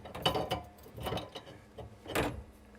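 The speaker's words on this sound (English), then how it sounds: "Now we need to use a wrench to disconnect the hose that's coming to the sink." A wrench works the fitting of a water hose feeding a sink during a mini water heater install, giving close, irregular metallic clicks and grinding scrapes in short bursts.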